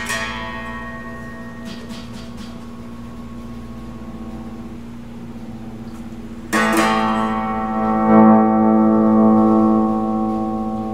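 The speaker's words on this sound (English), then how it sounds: "slight distortion" A sustained chord on an Epiphone Les Paul Special II rings with light overdrive, then a fresh strum rings out louder around the middle and slowly decays.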